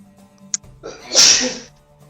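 A single loud sneeze bursts out near the middle, preceded by a sharp intake of breath and trailing off quickly into quiet.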